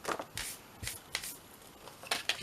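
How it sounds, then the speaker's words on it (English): A small bit of paper cut off a handmade journal: a quick series of about half a dozen crisp, close cutting snips with short pauses between. "Just cut that little bit off."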